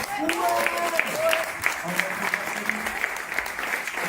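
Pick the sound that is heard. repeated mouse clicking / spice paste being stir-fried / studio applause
studio applause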